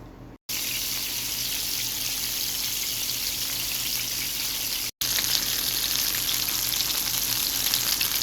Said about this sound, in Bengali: এখন মাছটাকে ভেজে নেব মাছ ভাজার জন্য সাইড প্যানে তেল দিয়ে দিয়েছি এখন মাছগুলো দিয়ে দিব